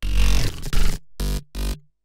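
Layered growly, bitcrushed Serum synth basses from an electronic dance drop play a loud, dense opening phrase followed by two short rhythmic stabs separated by gaps.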